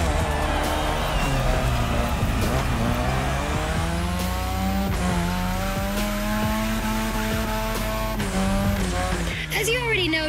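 A car drifts on a drift track in The Crew Motorfest, its engine revving loudly and continuously while tires squeal in long sweeping slides, with a voice talking over the din.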